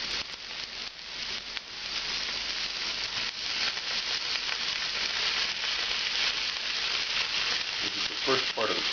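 Artichokes frying in a pan with softened onions, a loud, steady sizzle that runs throughout with light stirring scrapes, and no voices heard.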